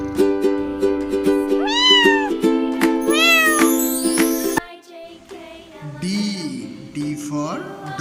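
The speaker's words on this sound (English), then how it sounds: "C for cat." A cartoon cat meows twice in rising, sliding cries over a bright children's song backing, followed by a softer, lower animal call near the end.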